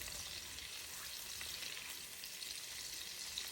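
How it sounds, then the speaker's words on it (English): Butter and garlic sizzle steadily in a hot pan, a constant crackling hiss at moderate volume with no voices. "I love the sound of that sizzle."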